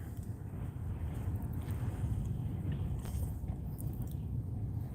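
Strong wind on a warm, windy day buffets the microphone in a steady low roar with gusty surges, loud and continuous, no talking.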